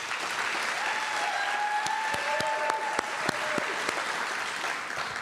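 Applause from an audience at a community heritage awards ceremony greets an honoree for Business, a steady dense clapping wash with a few sharp individual claps and faint cheers, fairly distant and continuous throughout.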